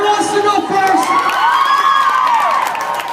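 A school assembly crowd, many of them children, cheers and shouts loudly for a dance-off, a sustained roar of whoops rising and falling over about three seconds.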